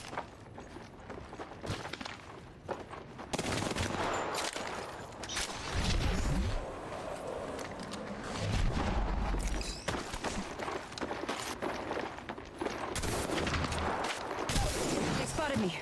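Gunfire rattles through an Apex Legends match in bursts and sustained volleys at mid-range, mixed with movement and game effects.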